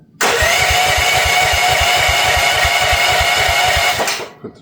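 MX15RX mini excavator engine cranking to life, a loud close rhythmic chugging over a steady roar that runs for about four seconds before cutting out abruptly.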